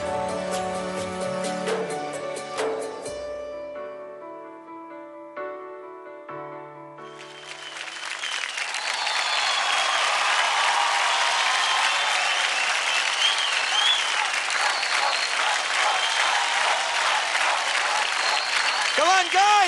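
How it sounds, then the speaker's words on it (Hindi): Studio audience applause and cheering erupt after a solo dance performance on the Dance India Dance televised competition stage, loud and sustained for over ten seconds, following a sung passage with music. "जोरदार ताली हो जाए प्रदीप के लिए"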